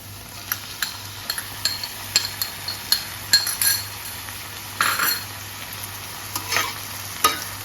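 Tomato being stirred into softened onions in a pan for a javla dried-shrimp dish: a steady low sizzle with repeated sharp scrapes and clinks of a spoon against the metal, no voices.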